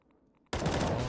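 Automatic gunfire from a CS:GO pro match on the Train map bursts in abruptly after half a second of near silence, then continues as a loud, dense, unbroken stream of shots.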